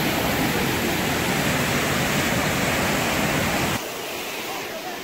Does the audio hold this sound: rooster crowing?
no